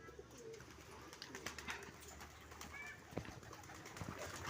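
Pet pigeons coo softly in a faint outdoor setting, low murmuring calls repeating over quiet background ambience, with a few light flaps and rustles.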